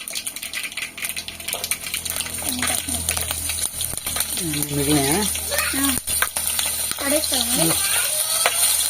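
Potatoes and cumin seeds fry in hot oil, a steady crackling sizzle with occasional utensil clinks, while someone talks over it through most of the clip.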